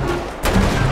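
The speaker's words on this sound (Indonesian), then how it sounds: "Masih ada suara tembakan, coy." Gunfire erupts in the video game GTA 5 with an Indonesian police mod, a sudden loud burst of shots that keeps up as a sustained crackling roar after a brief lull.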